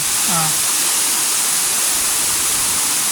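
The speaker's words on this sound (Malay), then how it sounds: "Sehingga air terjun yang tingkat ke-6" Steady broadband rush of the sixth tier of a waterfall in Kanching Eco Forest Park, Rawang, constant and full throughout, with a brief faint bird-like chirp near the start.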